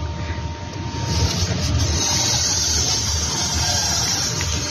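Kymco KRV 180cc scooter engine running with a fault, a loud steady broadband drone that swells after the first second and holds constant, close to the microphone with no talk.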